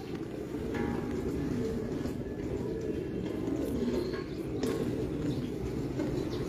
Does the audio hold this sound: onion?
no